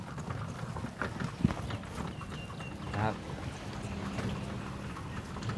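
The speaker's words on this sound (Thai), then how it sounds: "เรานั่งรถรถม้ากันนะครับ" Horse-drawn carriage ride at Wat Phra That Lampang Luang, with the horse's hooves clip-clopping at a near, steady rhythm under outdoor noise and background talk.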